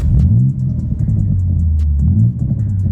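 A deep, rumbling sports car exhaust without flaps drones steadily at low revs, with the engine note rising and dipping slightly as it burbles.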